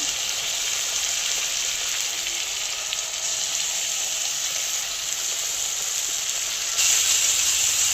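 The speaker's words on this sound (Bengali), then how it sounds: "মশলাটা ভালোভাবে কষানো হয়ে যাচ্ছে।" A mustard, poppy seed and coriander spice paste fries in a pan with a steady, close sizzle and hiss that holds evenly throughout, then brightens near the end.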